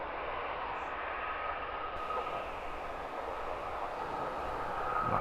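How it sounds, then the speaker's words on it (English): Airbus A321 jet taking off at Luton Airport, a broad steady engine roar with a rising whine, heard from a distance and holding constant throughout. "Off to Debrecen was our flight 2702, another A321."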